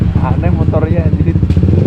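Motorcycle engine running during a ride to Cisarua, Bogor, a steady pulsing low rumble close by with people talking over it throughout.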